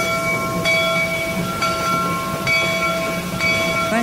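Disneyland Railroad train slowing to a stop, a steady rumble with sustained tonal squeal and brake hum, with periodic clicks from the wheels over rail joints, heard close from aboard.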